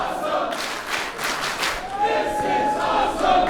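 A wrestling arena crowd roars and cheers in a broad, sustained wash of noise, loud and swelling near the end, with scattered claps and shouts.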